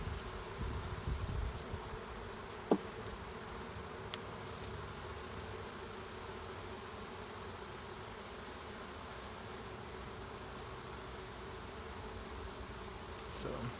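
Bees hum steadily around a hive outdoors, a constant low drone with faint high buzzes passing now and then, under broad background noise and a few small knocks.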